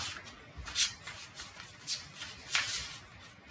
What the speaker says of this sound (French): Je le brasse beaucoup, quand même, à chaque fois.